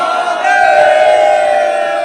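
A crowd of devotees celebrating Holi at the Mahadev temple gives a sustained, loud roar of voices and cheers, a continuous wall of sound with no break.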